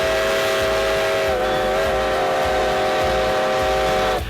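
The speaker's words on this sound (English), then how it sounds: "There is no better feeling than standing face to face with a howling steam train." A vintage tourist steam train in Atlántida, Honduras roars loudly and continuously, with a sustained whistle-like howl of steady harmonic tones over heavy rumbling, close by.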